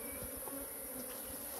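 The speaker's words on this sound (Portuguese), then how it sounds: "Aquele dia eu deixei para as abelhas entrar" Honeybees buzz steadily and close at a hive entrance during a colony split, a dense continuous drone of many wings with no voices.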